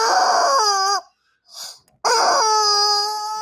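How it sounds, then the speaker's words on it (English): A squeezed rubber chicken toy gives two long, loud, strained squawks separated by a short gap and a faint wheeze, close and alone. "Rubber chicken."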